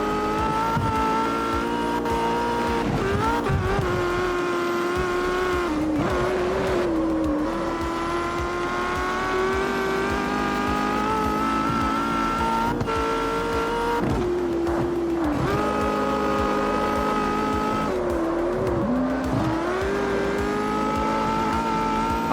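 C5 class race cars in the video game CarX Street, engines roaring and revving continuously with rising and falling pitch as gears shift, loud and close throughout.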